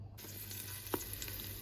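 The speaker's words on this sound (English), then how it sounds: "so I've got this now onto sear and saute" Quiet, steady sizzling of chorizo searing in a hot multi-cooker pot, with a soft stir or scrape partway through.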